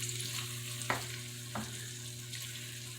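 A cream-of-soup mixture for a breakfast casserole is stirred in a skillet, a quiet continuous sizzle with a steady hum, broken by a couple of soft scraping strokes of the spoon, with no talking.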